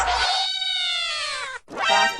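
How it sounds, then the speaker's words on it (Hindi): A cat gives a long, drawn-out wailing meow that slides downward, then a shorter second meow after a brief pause, loud and close. "रास्ते में बिल्ली कैसे आ गई?"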